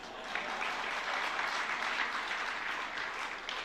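A crowd at a religious discourse claps together in a steady, sustained round of applause that holds evenly from start to finish, moderately distant and with no talking over it.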